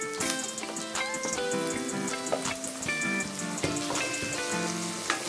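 Chopped tomato and green chili hit fried onions in a pan for Gujarati butter bean curry, bursting into a loud, crackling sizzle with spatula scrapes and clinks throughout, no one talking.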